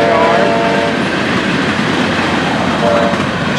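Freight train of empty cars from Port Sewell, including a Procord tanker, rolling past close by on FEC rails: a loud, steady rumble and rattle of wagons with faint horn tones sounding briefly at the start and near the end.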